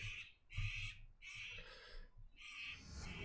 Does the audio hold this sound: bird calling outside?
yes